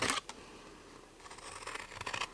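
Scissors cut through card for a Stampin' Up! paper craft: a sharp snip at the start, then quiet, scratchy cutting strokes that build toward the end, all soft and close.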